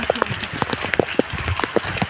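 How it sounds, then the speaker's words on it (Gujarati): Steady patter of rain falling on a surface at Uparkot Fort in Junagadh, scattered drops tapping irregularly with no voices. "અત્યારે વરસાદ ચાલુ છે"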